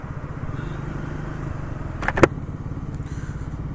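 Motorcycle engine idling and creeping through congested Delhi road traffic, a steady mid-range hum with a brief sharp clatter near the middle.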